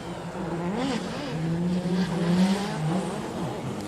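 A 500-horsepower drift car with a 13B turbo rotary engine revs at a drift event in Malaysia, its buzzy warbling engine note rising and falling steadily at close range, with no voices over it.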